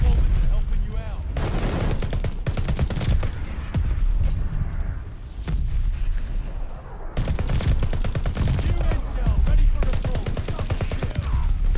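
Rapid automatic gunfire in Call of Duty: Vanguard battle royale, sustained loud bursts of shots with brief pauses between volleys, with someone talking over the shooting.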